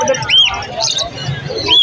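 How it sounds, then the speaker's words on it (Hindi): Pigeons calling at a Sunday bazaar pigeon market, short bird calls and coos rising over steady crowd chatter and background voices. "तो ये कबूतर आया"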